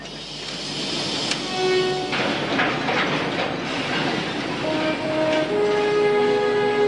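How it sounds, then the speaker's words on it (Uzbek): A mountain-line passenger train pulling out of a station, a steady loud rumble of wheels and carriages with faint squeals and tonal hums rising over several seconds. "Yuqori tog' yo'nalishidagi poyezd hozir jo'naydi."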